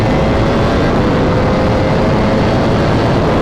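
A Ducati Panigale V4S with an Austin Racing exhaust, its engine roaring loud and constant at close range, a dense, unbroken drone with no voices over it.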